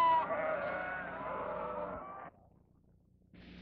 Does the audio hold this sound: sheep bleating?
yes